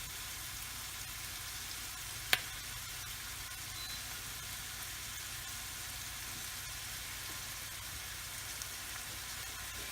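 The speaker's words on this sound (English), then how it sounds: "So we're going to saute these until they become translucent." Onions sautéing in a pan for a quick sauce, a steady soft sizzle with a single faint clink, no talking.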